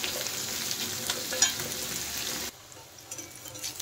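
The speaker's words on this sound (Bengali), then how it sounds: "বেগুনগুলো এখন একটু নেড়ে দিচ্ছি।" Eggplant pieces stirred and fried in oil in a pan, a close steady sizzle with spatula scrapes and a sharp crackle near the middle, dropping abruptly to a quieter sizzle partway through, with no talking.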